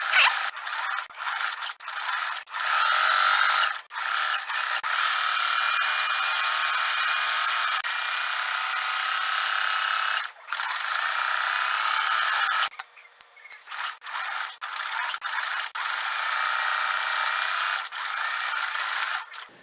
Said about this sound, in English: Now I'm just going to sew.